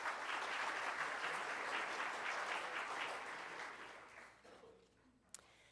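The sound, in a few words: audience applause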